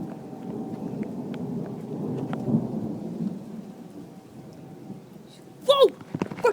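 A 2013 thunderstorm in Prince George brings steady rain with rolling thunder rumbling in the middle distance, followed by loud excited voices near the end.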